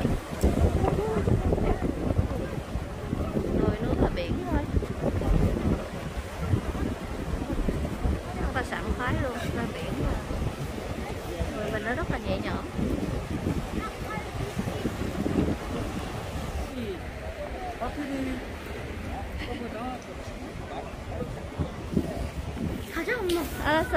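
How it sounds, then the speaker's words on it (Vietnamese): Sea waves wash against the shore near a seaside temple on the Korean coast, with sea, mountains and hills nearby; a continuous rolling surf is buffeted by gusting wind noise on the microphone, and people talk now and then. "Đứng ngắm sóng biển cái xíu đi mọi người ạ"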